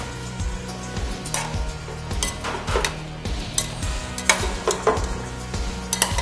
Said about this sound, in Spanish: voy a mezclar los mariscos a la salsa, las alcachofas,